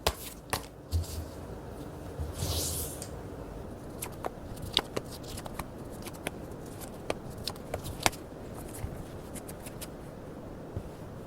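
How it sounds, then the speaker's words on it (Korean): Tarot cards being shuffled and drawn by hand, with soft riffling and a run of sharp card snaps and taps spread through the clip at close range, with no talking. "한번 카드를 뽑아보도록 할게요"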